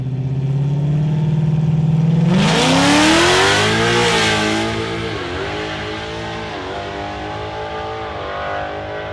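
A 2024 Mustang drag car launches hard, its engine holding a steady rev before climbing sharply in pitch through a loud, sustained acceleration, then easing slightly as it pulls away across several gear changes.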